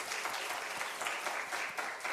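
Congregation applause at a Korean church's joint worship service, a continuous, even patter of many hands clapping at moderate volume for the whole span, with no talk over it.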